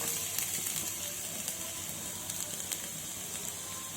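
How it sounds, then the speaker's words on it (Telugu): Chopped onions and green chillies hit hot oil in a pan while an egg curry is being made. A soft, steady sizzle and hiss carries on throughout with faint crackles, sounding close but quiet. "ముందుగా కట్ చేసుకున్న ఉల్లిపాయలు పచ్చిమిరపకాయలు మనం వేసుకుందాం."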